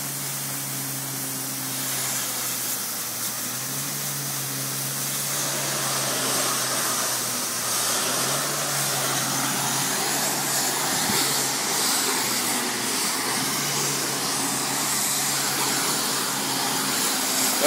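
Water recovery vacuum of a cleaning machine sucking up water, a steady loud rushing roar with a low hum that thickens and grows slightly louder midway, continuous without speech.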